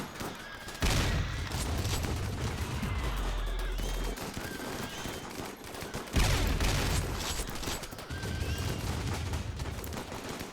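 Colonists firing weapons in the video game Rimworld: dense bursts of gunfire with heavy low booms, sustained across the clip in two main volleys, loud and continuous with no talk.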